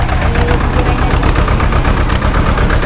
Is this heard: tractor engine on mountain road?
yes